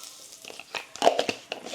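Asafoetida dropped into cumin seeds already reddened in hot oil over a lowered gas flame, giving a soft, close crackle and sizzle with a few sharper pops.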